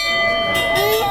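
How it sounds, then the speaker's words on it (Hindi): A temple bell at Dhanop Mata Mandir rings out with a sustained metallic tone and long resonant overtones, close by, while voices murmur in the background. "घंटी बजानी"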